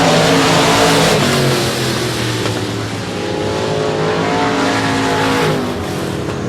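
Four-cylinder race cars roar past at South Texas Speedway during a race, a loud, continuous wall of engine noise with rising and falling revs as the pack circles the track.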